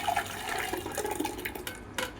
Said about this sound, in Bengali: ছেঁকা হয়ে গেছে, এবারে আমরা হাঁড়িতে এটাকে ঢেলে দিচ্ছি